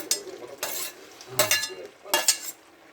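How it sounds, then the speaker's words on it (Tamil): Metal spoon scraping and stirring shrimp and fried eggplant curry in a pan, several bursts of clinking strokes with faint sizzling between them, close by. "நல்லா கிண்டி விட்டுக்கலாம்."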